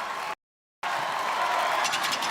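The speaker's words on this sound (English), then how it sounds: "He hears this crowd." An American Ninja Warrior finals crowd in Los Angeles cheers and applauds in a dense, steady roar that cuts out for a split second early on, then returns as loud as before.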